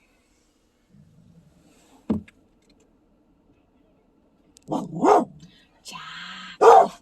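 A dog barks a few sharp times at passing students in uptown Saint John, New Brunswick, in a quiet setting, with short pauses between barks and a person speaking briefly.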